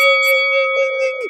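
A voice imitates a notification bell with a single sustained, ringing sung tone held steadily for over a second before trailing off, sounding bright and close.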